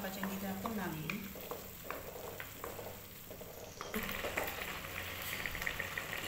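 Tomato paste, ginger and garlic masala is stirred and roasted in a pan, giving a soft sizzle and scraping stir strokes, with a quiet spoken voice over the top.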